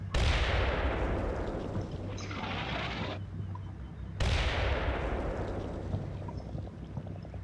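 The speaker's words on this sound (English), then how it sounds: "Shooting, aiming." Gunfire in the Combat Mission Shock Force 2 battle game: dense, loud rolling bursts of shooting with booming blasts, a broad crackle that cuts off sharply, pauses, then erupts again and sustains to the end.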